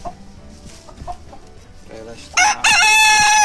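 Giant Indian chickens cluck softly while being fed, then a rooster lets out a loud, close crow near the end; a person briefly speaks.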